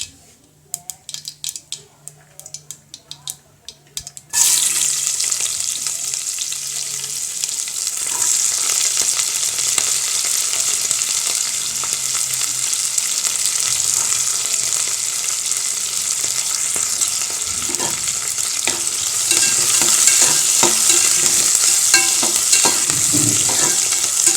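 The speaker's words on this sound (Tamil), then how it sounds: "குக்கரில் எண்ணெய் ஊற்றிருக்கு கடுகு போட்டு கடுகு பொரிஞ்சதும்" Mustard seeds splutter in hot oil in a pressure cooker while Tamil Nadu dhal rice is being made. A few quiet sharp pops come first, then a loud, dense crackling sizzle runs steadily to the end.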